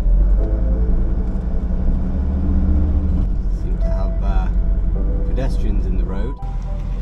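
A car engine rumbles steadily as it is put in gear and pulls away, with people talking over it and a brief change in the engine note midway.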